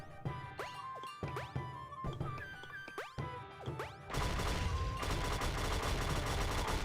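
Video game shots in Game Builder Garage, heard as a run of distinct zappy blasts at irregular intervals, then a dense, loud, continuous burst of rapid fire for the last few seconds.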